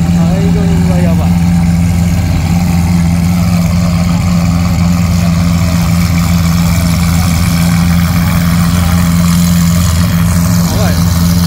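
Supercar engine idling outside a supercar festival venue at Ena, Japan, with Ferrari, Lamborghini, Porsche, Dodge, Orochi and McLaren cars leaving; a steady, loud low drone holds throughout with faint background noise.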